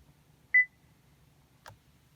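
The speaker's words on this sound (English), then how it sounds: "As soon as you hear the beep, let go" A single short, clear electronic beep from a Chevrolet or GMC truck or SUV dashboard during an oil life reset sounds in a quiet interior, followed moments later by a faint click.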